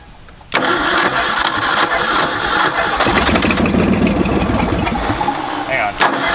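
An old Ford F250 with the choke pulled cranks and fires abruptly after a short quiet lead-in, then runs loud and rough at a steady, close idle for several seconds.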